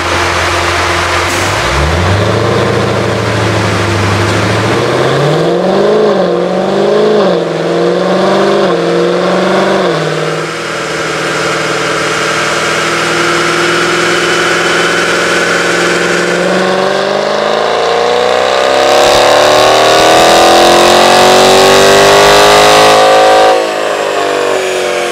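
A Dodge Challenger T/A 392 V8 accelerating on a wet 0-60 run: a loud close engine note climbing in pitch through several gear shifts, dropping, then surging again with a long rising roar, no talking.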